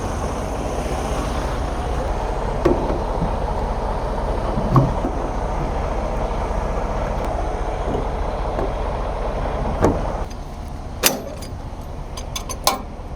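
Semi truck coupling to a trailer, a constant diesel idle rumbling underneath while scattered metallic clanks and clinks of hookup gear ring out, a few single knocks early then a cluster of sharper bangs toward the end.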